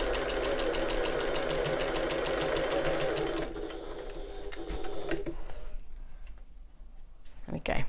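A sewing machine runs in a fast, steady stitching burst as it works around the curve of a bag, then stops, leaving quieter handling sounds and a voice afterward.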